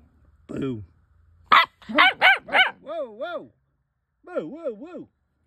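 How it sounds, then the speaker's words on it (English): A small dog gives a few short yips and whiny barks in separate bursts, close by, with pauses between them while a person coaxes it nearby. "Bark if you love your daddy."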